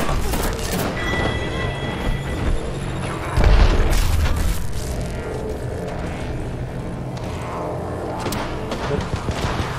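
A grenade goes off in a video game: one deep, heavy boom about a third of the way in, rising out of a dense, steady wash of in-game noise.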